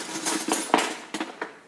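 Metal utensils clink and rattle against each other in a few quick, light bursts, close by, like a spoon being pulled from a holder.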